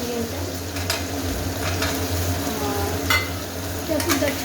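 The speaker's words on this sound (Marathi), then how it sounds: "त्यासुद्धा छान अशा परतून घ्यायच्या फोडी छान परतायच्या" Ridge gourd pieces stir-fry with tomato in a pan: a steady, close sizzle runs throughout, broken by soft scraping strokes of the stirring spoon every second or so.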